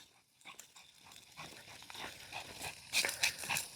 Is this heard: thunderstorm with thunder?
no